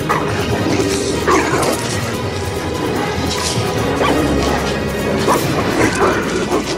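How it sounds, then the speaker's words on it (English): Crashing impacts and thuds from a staged fight as Hercules wrestles the dog Cerberus to the ground, with scattered yelps and barks over a constant rumbling dramatic background. "Hercules wrestles the dog to the ground."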